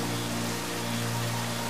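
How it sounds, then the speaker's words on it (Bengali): Garlic and ginger frying in oil with whole cumin, a dense, even sizzle filling the whole stretch with a steady low hum beneath it. "রসুন, আদা ভালো করে ভেজে নিতে হবে।"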